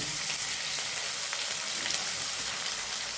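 Okra (bhindi) fries in a pan with onion, making a steady, fairly faint hiss of sizzling oil that runs unbroken throughout, no voices.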